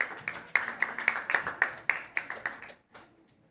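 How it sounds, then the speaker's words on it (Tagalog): A church congregation claps together in steady, rhythmic unison, about a dozen crisp beats at moderate volume, before the clapping trails off and stops. "Palakpakan po natin si Lord."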